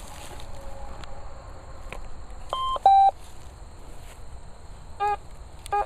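A Fors Core metal detector beeps as it is switched on outdoors. There are a few sharp electronic tones near the middle and another short beep pair near the end, set against faint insect chirping.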